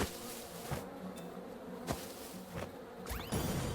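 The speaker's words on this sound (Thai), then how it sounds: "เสียงพึ่งหึงหึงหึงหึงข้างหูเลย" Bee buzzing in the farming video game Farm Together, a steady close insect drone with a few sharp clicks and sweeps over it, with no talking.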